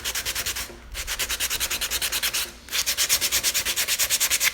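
Hand block-sanding of body filler on a plastic auto body panel, a loud rhythmic rasping of quick back-and-forth strokes in two runs separated by a short pause.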